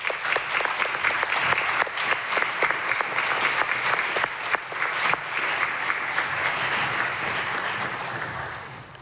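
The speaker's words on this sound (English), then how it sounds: "Would you all please join me in a round of applause for this year's Involvement Stars?" Audience at an awards ceremony gives a sustained round of applause, dense and fairly loud at first, then thinning slightly toward the end.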